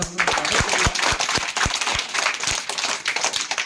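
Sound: applause at school event

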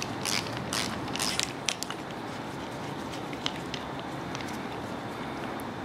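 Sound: socket wrench removing switch from LS V8 engine

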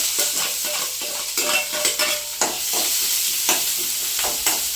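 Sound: curry leaves and onions frying in oil

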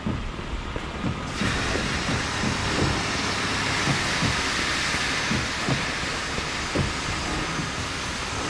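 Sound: train starting up in video game Mafia II

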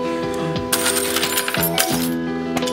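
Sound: keys jingling as they are handled

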